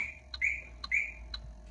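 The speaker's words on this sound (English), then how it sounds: "I am going to press the unlock button, and it should chirp." Saab key fob pressed to unlock a car with the key out of the ignition and doors open, answered by short electronic chirps, three high tonal beeps spaced evenly, clear and close with a low background hum.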